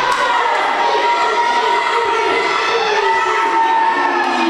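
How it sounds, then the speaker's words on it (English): A wrestling crowd at a live independent show cheers for Harker Dirge with loud, sustained roaring and shouting, many voices blending into a steady dense wall of noise. "this crowd is so behind Harker Dirge"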